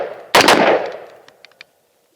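A single loud, close rifle shot from a gun fitted with a 60-round Schmeisser drum magazine cracks and rings out, followed by a few faint metallic clicks and rattles as the sound decays.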